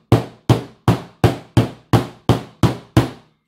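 A hammer strikes a Nokia phone nine times in a steady, even rhythm, each blow a sharp, loud knock that decays quickly.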